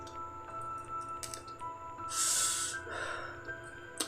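A person draws on a cigarette, giving a soft, breathy hiss of inhaled air that swells and fades within a second against a quiet room with faint background hum.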